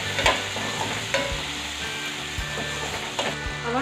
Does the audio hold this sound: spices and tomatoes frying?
yes